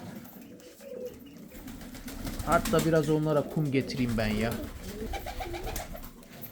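Pigeons on a terrace coo in low, throaty bursts nearby while a person speaks over them.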